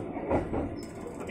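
Inside a KRL electric commuter train leaving Manggarai station in Jakarta, a low rumble of wheels and carriage runs steadily, with a brief high mechanical squeal partway through and faint voices in the background.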